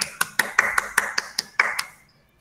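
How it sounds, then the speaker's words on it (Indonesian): A classroom clapping for a student, about nine crisp, evenly spaced claps in a rhythmic pattern, fairly close, then fading to quiet. "Kasih tepuk tangan buat Kanza."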